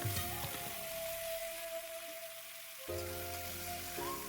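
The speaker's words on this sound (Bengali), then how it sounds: "অল্প করে হলদির গুঁড়ো দিয়ে এখন কিছু সময়ের জন্য ভালোভাবে ভেজে নেব" Spices with turmeric powder fry in a pan for chicken kosha, giving a steady sizzling hiss throughout, with a brief shift in tone near the end as the pan contents settle.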